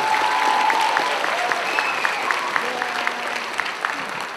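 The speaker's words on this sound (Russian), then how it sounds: "Аплодисменты." An audience claps for a dance team about to perform its dance show at Higan 2010, a steady, dense wash of applause filling the whole stretch, with occasional faint voices and whistles mixed in.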